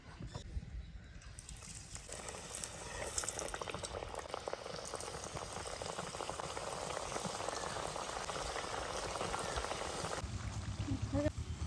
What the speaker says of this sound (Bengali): তেল গরম হয়ে গেছে এবার আমি এক এক করে ভেজে নেবো